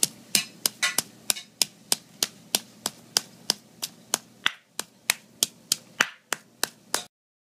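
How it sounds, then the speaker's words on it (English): A knife chops coriander leaves on a board in sharp, evenly spaced strikes. About twenty crisp taps are close and distinct, then the chopping stops. "Chop the coriander leaves, chopped coriander leaves"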